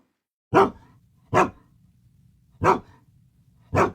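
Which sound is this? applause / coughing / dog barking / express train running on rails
dog barking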